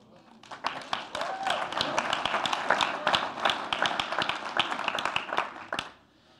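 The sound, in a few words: audience applause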